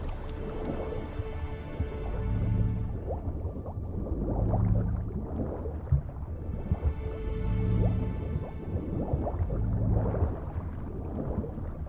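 Bubbling, dripping water surrounds Geralt as he stays submerged in The Witcher 3: Wild Hunt, with gurgles and soft splashes rising and falling in slow waves under a sustained musical drone.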